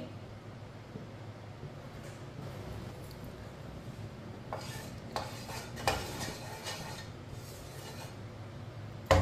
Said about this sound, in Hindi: एक बार दोबारा मिक्स कर लेंगे